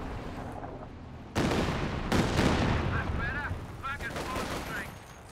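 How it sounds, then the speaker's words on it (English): In a Company of Heroes 2 battle, a Katyusha rocket barrage and gunfire erupt as a sudden loud burst, followed by a second wave of crashing impacts and rattling shots that slowly fade amid scattered battlefield noise. "Katyusha coming in. Ooh, and clears out the MG there."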